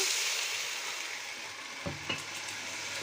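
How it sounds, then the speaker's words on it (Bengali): Pointed gourd pieces fry with browned onions in a pan, giving a soft steady sizzle, with two quick knocks of a spoon against the pan near the end and no talking. "পেঁয়াজ ভাজা হয়ে গিয়েছে দিয়ে দিলাম পটলগুলো"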